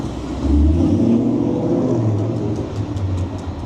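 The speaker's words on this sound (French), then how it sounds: "Oh, une jolie voiture." A car passes on a city street in Cologne, its engine swelling into a loud, close rumble and then fading slowly into traffic noise.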